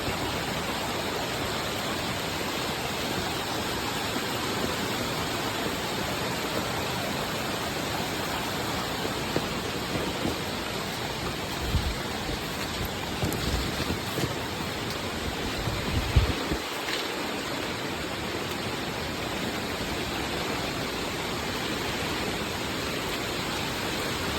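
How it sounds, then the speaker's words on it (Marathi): Heavy overnight monsoon rain in the Konkan region, with floodwater rushing over a bridge: a dense, steady broadband roar of downpour and flowing water that holds unbroken throughout, with no voices. "रात्रभर पाऊस पडतात केवढा मोठा पाणी गेला बघा"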